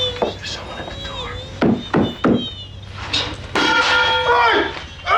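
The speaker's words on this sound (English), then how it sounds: "Oh my God, there's someone at the door." Several sharp knocks bang on a door, spaced close together in loud bursts, mixed with talking voices around them.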